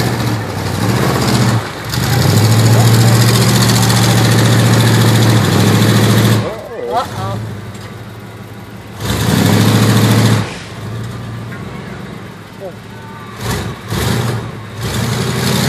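Big-tired off-road trucks rev hard through a deep mud bog, with long, loud engine roars that rise, hold and drop away between runs while voices talk over the noise.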